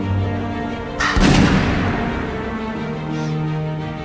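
A single sharp gunshot bursts out loud and close, its boom decaying into a short rumbling tail, with a faint later echo and no talk.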